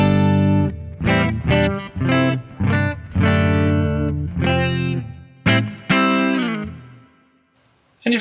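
An electric guitar plays a sequence of clean, ringing chords and single notes, steady and close, with a short pause before a final strum.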